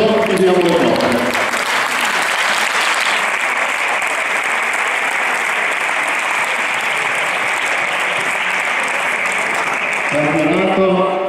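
An audience at a national championship awards ceremony in Rimini claps steadily in a sustained burst of applause, with a voice speaking over a PA at the start and end.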